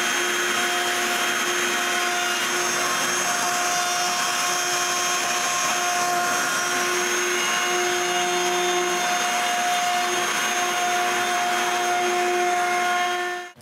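Steady, loud whine of a power router rounding over the edges of wooden kayak cart pieces, running continuously without pause and ending abruptly at the close.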